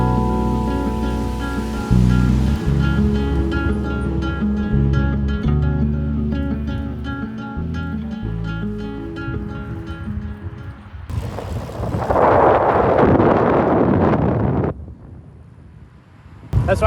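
Steady wind buffets the microphone while someone rides a fixed gear bike outdoors on a windy route. There is a low rumbling roar throughout, and a louder gust surges near the end, with no talk.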